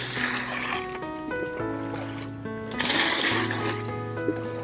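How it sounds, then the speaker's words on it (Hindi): Water splashes and trickles into a bucket for washing food before cooking outdoors, a steady pouring wash with a louder splash near the middle. "ये मैंने पानी दे दिया"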